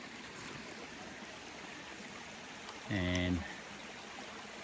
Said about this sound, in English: There's not much pressure here, so had to wait for the water to flow down here